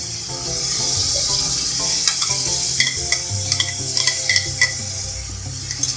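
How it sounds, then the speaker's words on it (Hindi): Fried browned onions being stirred into mutton in a pot for degi-style white mutton yakhni pulao: a steady sizzle under the scrape and clink of a spoon against the pot, with a few sharper knocks near the end. "अब इसको हम गोश्त के साथ अच्छी तरह इसको मिक्स कर लेंगे।"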